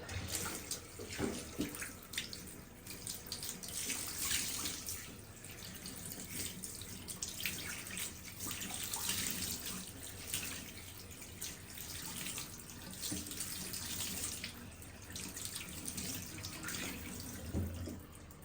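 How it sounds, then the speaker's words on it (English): Water runs steadily from a bath tap, a continuous rushing splash that carries on unbroken, close by. "I am going to switch to the other tap because that water's freezing."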